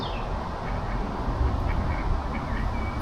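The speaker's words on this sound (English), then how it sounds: "there's ducks on this pond" Ducks quack on a pond outdoors, soft and intermittent over a steady low rumble of background noise, with no talk.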